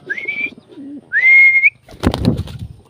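Pigeons in a house-to-house loft give a short low coo between two clear, sustained whistled notes, followed by a brief burst of fluttering.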